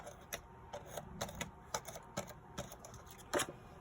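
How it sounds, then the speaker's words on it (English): A tape runner lays adhesive on a Stampin' Up! card, heard as a string of quiet, close ticking clicks and short scrapes in an irregular rhythm. "I'm just going to use tape runner on this."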